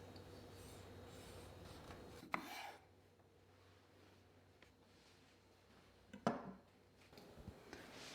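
A knife cuts through heirloom tomatoes on a board: two soft, separate cutting strokes, a few seconds apart, against a quiet kitchen background.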